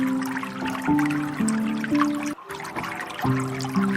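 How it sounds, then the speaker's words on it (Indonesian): Flowing water for relaxation, a steady close babbling trickle with tonal bubbling notes, briefly dropping out once before resuming, with no talking. "Rasakan setiap bunyi yang ada, suara air mengalir."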